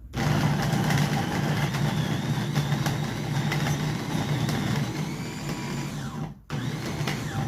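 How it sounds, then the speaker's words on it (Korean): A motorized garlic peeler runs with a steady, loud whirring motor drone, holding almost unchanged for several seconds before a brief cutout and restart near the end. "뚜껑을 닫고 모터를 올려서 이렇게 눌러서 돌립니다."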